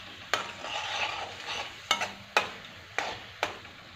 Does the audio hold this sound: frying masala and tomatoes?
yes